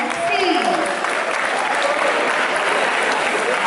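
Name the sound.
audience applause at school farewell ceremony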